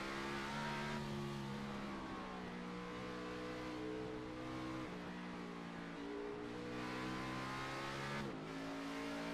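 An Xfinity stock car at Sonoma Raceway on a track lap, its engine droning loud and close, with pitch climbing through the gears and a brief drop at each shift.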